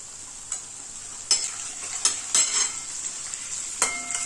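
Potato bhaji with turmeric sizzles in a pan while being stirred, a steady close frying hiss punctuated by several sharp spatula scrapes and knocks at irregular intervals.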